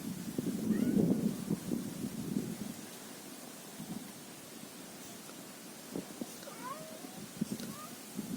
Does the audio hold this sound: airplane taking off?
no